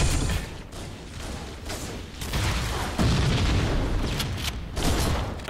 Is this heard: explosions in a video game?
yes